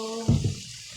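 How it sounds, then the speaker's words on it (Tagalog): Rice being washed under running tap water in a sink while cooking lunch, a short close splashing burst that settles into a softer trickle. "Maghuhugas na po ako ng bigas"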